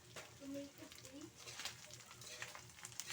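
Dilis anchovies sauté in oil in a home kitchen, giving a steady, faint sizzle and crackle with occasional stirring, while a voice talks quietly over it.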